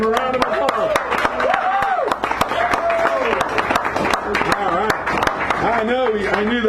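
An audience at a café poetry hour claps, with sharp applause under loud overlapping voices and whoops.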